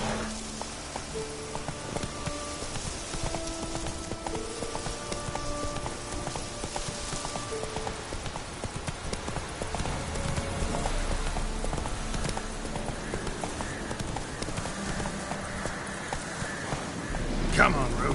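Roach the horse walks in a PS4 game, hooves clip-clopping at a steady pace against patter like rain and background game music, with a voice speaking over parts of it.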